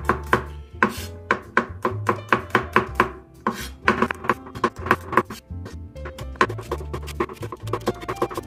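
Garlic cloves are sliced into thin pieces on a cutting board, a steady run of crisp, close knife taps that pause briefly midway before resuming in uneven rhythm.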